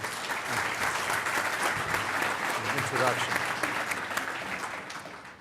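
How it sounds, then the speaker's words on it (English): An audience at an annual industry meeting's sweets, snacks and co-pack panel claps in a sustained round of applause, while a speaker's voice carries over the clapping. "let's give him a round of applause just for the"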